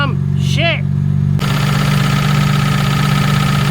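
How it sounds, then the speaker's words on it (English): A Jaguar MKII engine runs steadily from close by, heard from beneath the car, a continuous loud idle with a brief voice at the start before the engine sound takes over. "Yeah, the engine's running."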